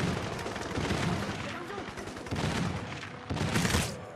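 Gunfire in the shooter Crysis, steady bursts of shots rising and falling over about four seconds under dense game noise, with occasional speech mixed in.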